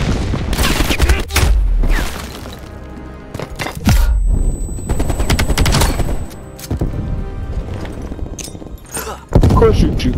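Black Ops Cold War gunfire on the Satellite map in Hardpoint mode: loud, dense automatic bursts and heavy thumps keep coming throughout, with game noise and voices mixed in.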